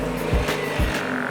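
A car engine runs close by while the vehicle is started and eased backward, with two brief swells in engine noise over a steady rumble.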